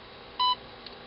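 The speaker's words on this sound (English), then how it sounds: "it recognized my command because it beeped" Voice-controlled Arduino robot with an EasyVR3 module gives a single short, clean confirmation beep, steady in pitch and heard alone in a quiet room.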